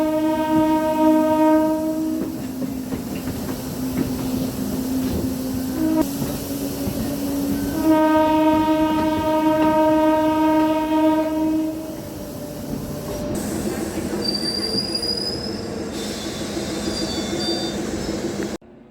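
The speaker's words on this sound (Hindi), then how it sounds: "दस मिनट बाद ट्रेन रिवर्स जाने लगी और हम वापस लोनन जंक्शन में आ गए।" A Lonand-Phaltan DEMU diesel-electric multiple unit train reversing toward Lonand Junction sounds long, loud horn blasts over a steady engine rumble, followed by wheel squeal and rolling clatter.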